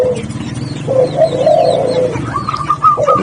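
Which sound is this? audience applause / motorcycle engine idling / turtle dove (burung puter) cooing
turtle dove (burung puter) cooing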